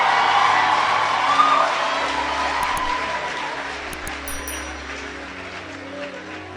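A church congregation cheers and claps loudly at first, and the noise of the crowd fades to a softer murmur with scattered clapping.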